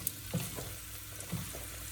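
Onions frying in a hot pan with sesame seeds for mutton chukka, a faint steady sizzle broken by a couple of soft knocks, no talk.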